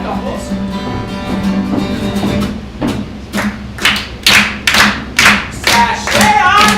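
A group of dancers in a traditional reel sashay lesson claps hands together in a steady rhythm, sharp loud claps coming at a regular beat after a brief stretch of quieter shuffling and talk.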